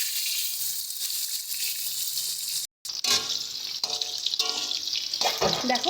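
Raw green banana pieces sizzle steadily in hot oil in a pan, a close, continuous hiss broken by one brief silence and a few louder crackling bursts.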